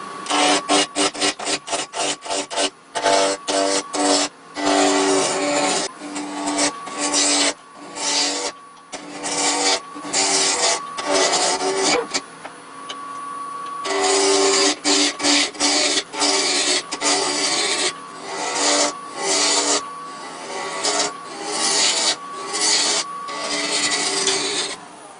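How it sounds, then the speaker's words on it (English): A spindle roughing gouge cuts green wood spinning on a lathe, giving a loud, continuous rough scraping and rasping with rapid rhythmic chatter and brief pauses, no talking. "And then using the spindle roughing gouge."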